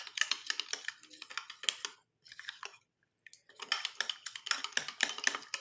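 Juice decoction being stirred into a face pack mixture in a small bowl, giving quick repeated scraping and clinking strokes up close, with a short pause midway before the rapid mixing resumes.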